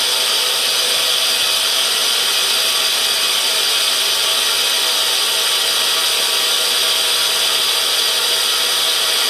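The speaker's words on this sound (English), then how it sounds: "I'm starting to form the notch there, and I'm just taking 3 thou at a time and then rotating the drill." Tool grinder grinding a notch into a drill bit, taking three thousandths at a time while the bit is rotated, a continuous loud high-pitched abrasive whine that stays steady and even throughout, with no talk.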